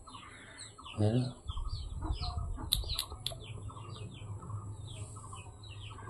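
Fallen baby bird chick peeping in a series of short, high chirps over a low rumble, with a brief burst of wing flapping and someone speaking nearby.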